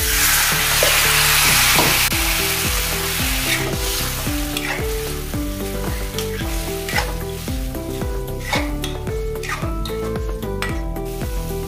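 Boiled sliced potatoes sizzle loudly in a hot pan after water is added for dum aloo, with stirring and occasional clinks of a utensil against the cookware.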